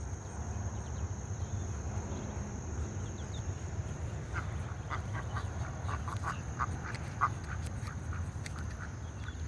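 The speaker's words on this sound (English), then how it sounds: "Look at that duck in the water." A duck on a lake quacks in a short series of faint calls midway through, heard over a steady low rumble and a constant high insect-like whine.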